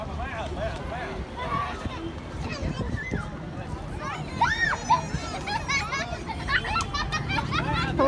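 Children shout and squeal excitedly in an outdoor crowd along a windy seaside promenade, their bright voices rising over a steady hubbub of talk, with livelier bursts toward the end.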